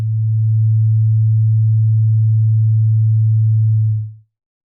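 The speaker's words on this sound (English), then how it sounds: "a single oscillator is pushing a sine wave into the filter module, and the low-pass output is routed to the amplifier" A pure low sine tone from a single modular synth oscillator passed through a low-pass filter module, steady and loud for about four seconds before fading quickly to silence.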